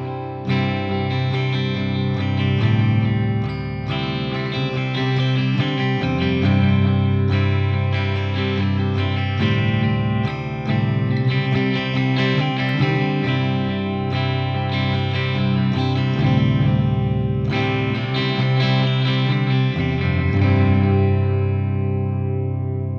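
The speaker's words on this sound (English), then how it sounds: "So a nice, spacey, clean, of course, echo-heavy guitar sound" Spacey, clean electric guitar through a Fractal AX8 patch with heavy echo and chorus, sustained chords ringing and repeating in long trails, loud and alone with no voices.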